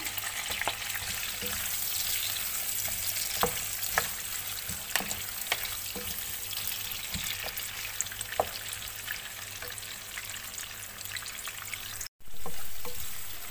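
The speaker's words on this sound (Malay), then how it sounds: "Kita goreng dulu dia sampai dia layu" Ginger, garlic and onion sizzle steadily in a hot oiled pan with scattered crackles and pops, a constant close frying hiss that continues without any speech.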